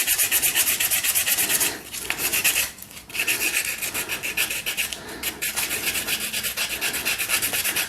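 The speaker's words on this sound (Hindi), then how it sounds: "आपको जो है हमेशा रगड़ने के लिए कुछ ऐसी चीज़ चाहिए होगी जिससे इसके ऊपर में स्क्रैचेस ना आए।" Continuous close scrubbing as rust is rubbed off a chrome-plated bike part, a dense rasping friction with a rapid back-and-forth rhythm, briefly pausing twice before carrying on steadily.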